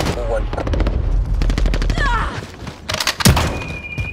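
Rapid bursts of automatic gunfire from the video game Call of Duty: Modern Warfare, loud and close, followed by scattered thuds and a few sharper shots.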